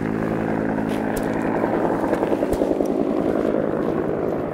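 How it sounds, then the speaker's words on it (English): A helicopter over snowy mountains, its steady rhythmic rotor chop droning throughout at moderate distance, loud and unbroken. "We got a chopper up here."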